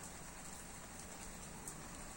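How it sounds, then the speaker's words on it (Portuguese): Gentle, soft rain falls in a steady, even patter with a faint hiss, quiet and continuous, with no voices. "ela traz essa chuva mansa para resfriar a terra"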